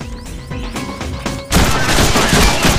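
Gunfire in the Deadpool video game, a dense, loud burst of rapid shots that erupts midway and continues as sustained automatic fire over game music.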